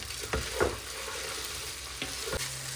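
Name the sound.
biryani with basmati rice cooking in a large pot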